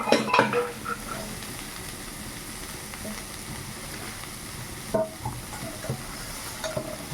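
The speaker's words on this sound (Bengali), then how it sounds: "ডালটা একটু নাড়াচাড়া করে নামিয়ে নিব।" A spoon stirs dal in a cooking pot with soft continuous scraping and a light sizzle, plus a few louder clinks of metal against the pot, close and steady.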